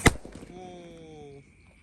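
A disco firecracker bursts outdoors at night with one sharp, loud crack, followed by a fizzing, whistling tone that holds for just over a second before cutting off, leaving quiet.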